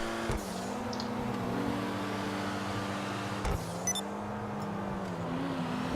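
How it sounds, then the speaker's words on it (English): Specter sports car engine in Grand Theft Auto, a steady sustained drone throughout with pitch wavering slightly as revs shift, loud and continuous with no talking. "listen to this engine roar"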